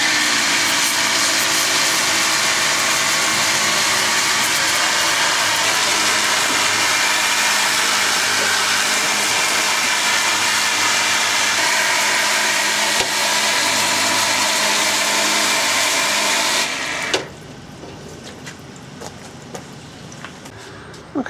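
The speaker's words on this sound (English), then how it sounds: "I'm going to give the engine a pressure wash with my very handy little Ryobi cordless pressure washer" A small Ryobi cordless pressure washer sprays water over the engine bay of a Mk2 Volkswagen Golf, a loud, steady hiss and motor whine running for about seventeen seconds before cutting off abruptly, leaving quiet background.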